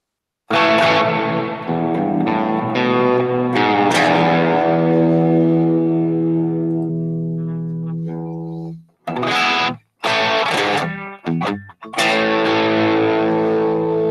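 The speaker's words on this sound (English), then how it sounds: "So screamer, distortion, scream, turn the gain down, turn the level up." Electric guitar played through a screamer overdrive, distortion and chorus on a Line 6 HX Stomp: a long sustained distorted chord rings and fades, then short choppy bursts and renewed sustained chords follow.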